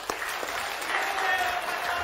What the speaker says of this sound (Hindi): आनंद आया हो तो ताली तो बजा दे।